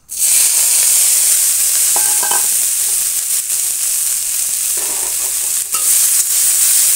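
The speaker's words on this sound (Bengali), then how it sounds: "গরম জলে ধুয়ে রাখা সজনে ফুলগুলো এবার তেলের মধ্যে দিয়ে ভেজে নেব।" Drumstick flowers fry in hot oil with whole cumin and dried chillies, giving off a loud, continuous sizzle and hiss right up close, broken by a few brief clatters of stirring.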